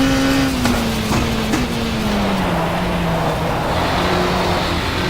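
Front-wheel-drive race car engine from a WTCC touring car racing game drones steadily with a slowly falling pitch, with continuous tyre and road noise underneath and no talk.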